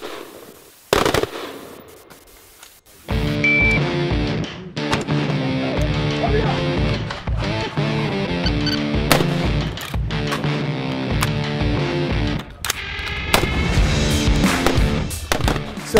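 Small arms gunfire at Navy EOD training, rapid repeated shots in dense volleys, loud and close, with a quieter gap early before the firing begins in earnest.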